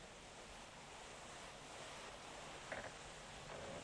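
Ocean surf washes in a continuous broadband hiss and roar, steady and fairly loud, with a slight swell near the end and no voices over it.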